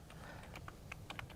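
Quick, faint clicks of typing on a computer keyboard, about ten irregular keystrokes in a short burst, heard alone in a quiet room.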